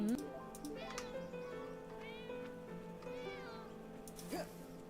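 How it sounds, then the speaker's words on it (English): A cat meows several times in the Divinia Chronicles: Relics of Gan-Ti video game, drawn-out rising and falling cries repeating over steady game music, with a sharper call near the end. "I hear a cat meowing."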